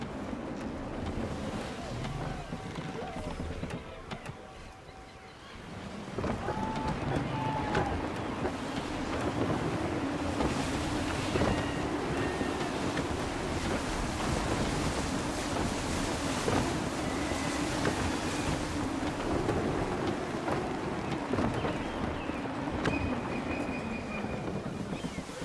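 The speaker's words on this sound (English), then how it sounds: "Wind looks to be shifting. Stay alert, Connor. Gusty winds can be difficult to manage." Gusty wind and crashing waves surround a sailing ship at sea in the Assassin's Creed III video game, a continuous loud rushing wash with no voices, dipping briefly before building again.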